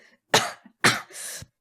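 Two sharp coughs close up, followed by a rougher, raspier exhale, with nothing else around them.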